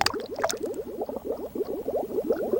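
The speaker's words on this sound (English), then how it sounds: "let's drop the egg in the tank" An egg splashes into a water tank in the Sega video game Seaman, followed by a steady run of soft bubbling, gurgling liquid sounds, fairly quiet and close with no talking.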